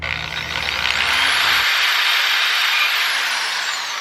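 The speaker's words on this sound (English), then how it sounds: "I'm gonna use a small drill to just get the hole started" A small power drill spins up with a shrill, steady whine as it starts a hole in a cycling shoe cleat; the sound is close and continuous, with a lower motor hum dropping away early on.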